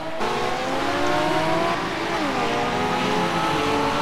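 A green RUF race car in the iRacing sim at Circuit Gilles Villeneuve roars loudly and continuously, its engine note dipping briefly as it rides over the chicane curbs, then climbing again under hard throttle.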